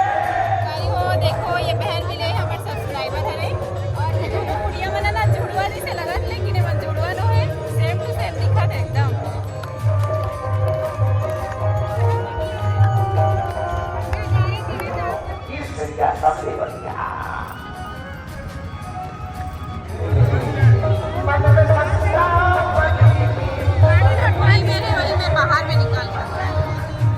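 A large crowd at the Bageshwar Dham darbar in Raipur, a steady dense babble of many voices close and far, with a dog barking at times and someone talking nearby over the din.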